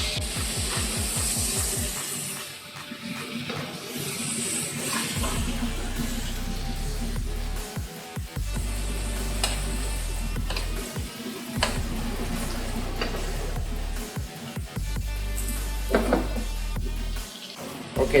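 Steaks sizzle steadily in a pan as butter is added for an Argentinian-style steak, a continuous close frying hiss with occasional clinks and scrapes.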